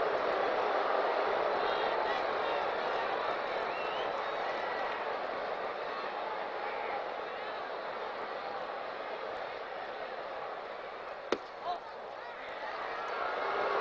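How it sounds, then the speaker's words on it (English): A baseball stadium crowd in Atlanta reacting at a 1978 game, a broad sustained roar and murmur of many voices that swells and eases, heard from a distance with a brief sharp knock near the end. "you can hear the reaction from the Atlanta crowd, not happy about seeing the ball up out of the strike zone"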